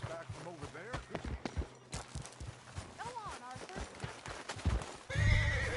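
Horses neigh and whinny in Red Dead Redemption 2, with clip-clopping hooves and movement throughout, and someone talks over the sounds as a louder burst closes the scene.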